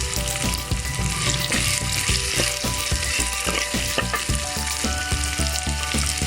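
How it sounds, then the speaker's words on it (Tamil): Onions and garlic sautéing in a pan for a Hogenakkal-style fish curry, giving a steady loud sizzle with scraping stirs throughout, no voices. "இதையும் நல்லா வதக்கி விடுங்க."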